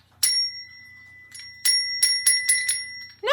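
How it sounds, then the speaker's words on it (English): A small bell rings clearly indoors: one bright ding, a pause, then a quick run of five or six rings in a row, each a clear metallic tone with a short decay. "No, but I can hear it. It's a bell."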